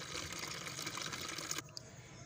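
Purple-tinted soaking water strained out of a container, a steady splashing pour that cuts off abruptly after about a second and a half, followed by a couple of faint drips.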